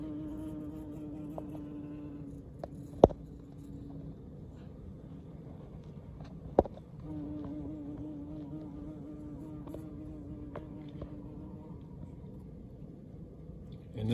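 A yellowjacket queen wasp buzzes steadily inside a trap habitat, a faint, continuous drone broken by two sharp ticks as she bumps against the enclosure.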